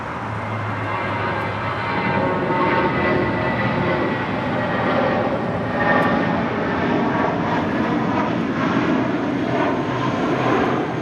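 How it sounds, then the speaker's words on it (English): A Spirit Airlines Airbus A320 takes off from LAX with a continuous, loud jet roar that holds steady from start to finish. "That was Spirit Airlines 816 taking off to Kansas City, Missouri on an A320."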